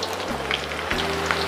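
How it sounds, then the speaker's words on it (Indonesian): Thinly sliced tempeh frying in hot oil, giving a close, steady crackling sizzle that hisses continuously throughout, with a faint low hum underneath and no talking. "Selanjutnya tempe yang sudah diiris tipis-tipis saya goreng ya. Minyaknya sudah panas."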